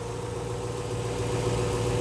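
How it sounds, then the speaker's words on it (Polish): A 2001 Lexus GS430 with a 4.3-litre V8 idles steadily close by, giving a low, even rumble with a constant tone and no revs or voices over it. "Zobaczcie jak pracuje V8."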